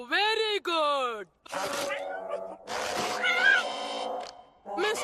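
A cat gives a long, drawn-out meow up close, followed by a few shorter vocal sounds, with people talking in between and after.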